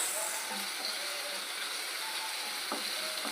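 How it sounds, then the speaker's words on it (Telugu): Lima bean curry masala fries in oil with a steady, close sizzle and a few faint scraping ticks from stirring, with no voices. "ఇది బాగా ఆయిల్ అంతా పైకి వచ్చే వరకు మనం వేయించుకుందాము"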